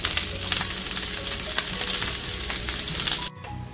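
Butter melts in a pan beside a roll of Goetta, giving a steady close sizzle and crackle that cuts off abruptly near the end.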